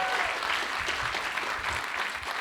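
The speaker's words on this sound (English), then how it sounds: "give a massive round of applause for Michelle for hosting the day" A conference audience gives a round of applause for the day's host, a dense, steady wash of many hands clapping close by with no break across the short stretch.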